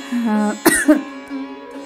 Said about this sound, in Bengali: কাশি উঠছে, বেশি কথা বললেই আমার এরকম হয়